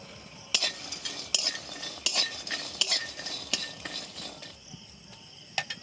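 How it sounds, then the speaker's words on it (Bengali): Garlic fries in a wok while being stirred, a moderate sizzle broken by regular sharp scrapes and clinks of a utensil against the metal, roughly once per second, with no talking. "এবার এই রসুনগুলো কড়াইতে দিয়ে খুব ভালোভাবে ভেজে নেব আগে"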